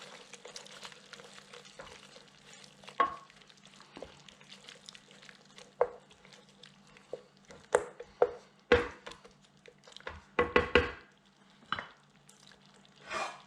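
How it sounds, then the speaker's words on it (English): A spoon stirs fenugreek leaves through a pot of Yemeni saltah, scraping and clinking in irregular bursts over a low steady hum of gentle sizzling, close and otherwise quiet. "Then I'm going to add the fenugreek leaves. I'm going to stir those in."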